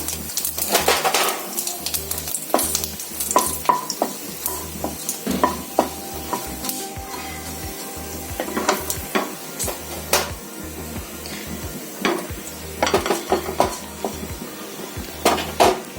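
Black cumin seeds and dried red chillies crackle and sizzle in hot mustard oil for a Bengali sweet tomato chutney, with repeated stirring and spoon-on-pan clinks throughout, close and steady, and no talking.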